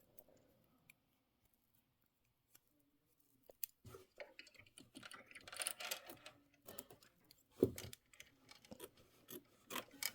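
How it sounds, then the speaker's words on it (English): Sewing snips work through layered chenille fabric in a quiet room, first faint isolated clicks and then a rapid run of crisp, uneven snips and crunching cuts, close and fairly loud. "I'm going to go in with my snips and see."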